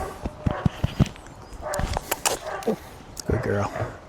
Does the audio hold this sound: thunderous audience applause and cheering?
no